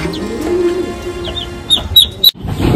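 Ducklings lifted out of the water on a pet farm in Bangladesh, with soft high chirps and a few sharp peeps close by over a low background murmur.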